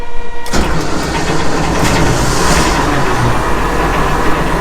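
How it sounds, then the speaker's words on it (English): A Panhard ERC90 armoured car's petrol V6 engine cranks and catches, then runs loud and rough with a slight rev, close by and continuous. "he will turn that switch one more turn over and rev the vehicle slightly, and it will start."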